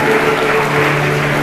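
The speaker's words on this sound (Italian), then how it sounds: "facciamogli un grosso applauso ancora." Guests at a wedding reception applaud in a hotel hall, a loud, steady wash of clapping with a sustained musical tone running underneath.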